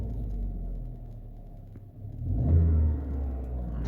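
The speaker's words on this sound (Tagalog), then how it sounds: "We rev the engine a little bit" A Hyundai Venue 1.6 with a manual gearbox has its engine revved lightly inside the car, a low steady idle rumble rising into a louder mid-clip swell before easing back to a hum.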